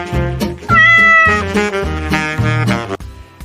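A pregnant cat named Luna meows loudly and close up, giving several drawn-out, wavering cries one after another with brief breaks between them.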